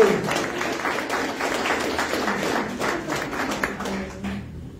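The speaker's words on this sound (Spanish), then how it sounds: "Aplaudan al Señor" Congregation at a Spanish-language church service applauds, a broad wash of clapping with faint tapping texture that fades out toward the end.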